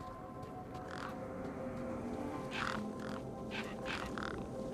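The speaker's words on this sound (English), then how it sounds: "Those birds weren't going to let me anywhere near the back of the truck." Birds cawing harshly in a video game near the back of a truck, several crow-like calls in short bursts over a constant low rumble of ambient noise, moderately distant.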